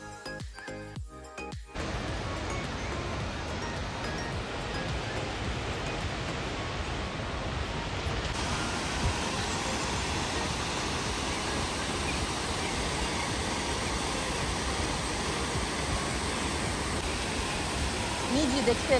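Shiraito waterfall in Japan, a steady broad roar of falling water that stays even and loud throughout, with a short stretch of other sound at the very start.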